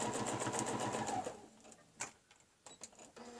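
A sewing machine runs steadily, stitching ribbon bows, with a rapid rhythmic whir for over a second before stopping, followed by scattered clicks and handling taps nearby.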